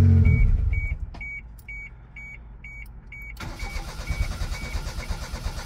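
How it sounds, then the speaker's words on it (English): On a car with a fuel problem, an engine cranks and briefly catches, then goes quiet while a regular series of chime beeps sounds, before the engine churns again at a rough, uneven rumble. "It's like the fuel pump starts up and then shuts off."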